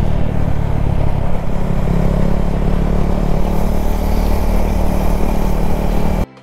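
A Yamaha R15 motorcycle is ridden at speed on the road, its engine droning continuously under heavy wind buffeting before stopping abruptly.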